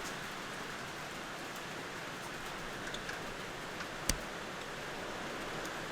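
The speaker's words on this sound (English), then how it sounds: "You might be able to hear the rain that's just started as well." Rain that has just started falling outdoors makes a steady, even hiss of drops. One faint tick stands out near the end.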